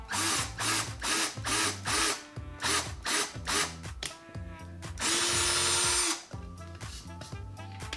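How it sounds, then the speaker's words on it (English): A power drill works on a homemade overhead camera rig in short repeated bursts of whirring, each with a rising and falling motor pitch, then one longer sustained run, close and loud with no talking. "You drill it in a little bit, you know what I'm saying?"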